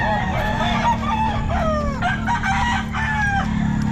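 Sweater gamefowl roosters crowing at the Bocaue pet market, several overlapping cock-a-doodle-doo calls close by, set against a constant low hum and busy market background.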